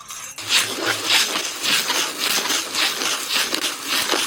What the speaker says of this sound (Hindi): अब मक्का डालेंगे, अब भूनेंगे